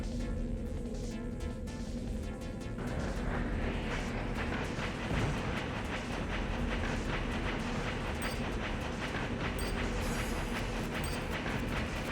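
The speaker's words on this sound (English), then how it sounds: "I just gotta wait for the train to leave." A train in the video game Armored Core 2 pulls away, a steady loud rumble of rolling rail cars with rhythmic clickety-clack, the noise swelling slightly after a few seconds and holding for the full length with no voices.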